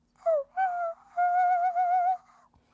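A singer demonstrates whistle voice imitating a puppy cry, producing a few short, high, thin whining tones followed by a longer wavering squeal, close and clear against silence.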